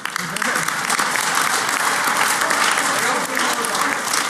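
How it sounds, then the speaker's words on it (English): An audience at the Black Hat Pwnie Awards breaks into steady, dense applause that stays loud and even throughout, many hands clapping at once in a large hall. "Applaud now."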